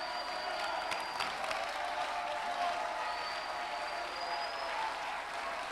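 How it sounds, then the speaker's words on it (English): A church crowd in San Jose claps steadily with scattered shouts and cheers rising above the clapping, a continuous, lively roar from a large room. "Somebody clap your hands and shout."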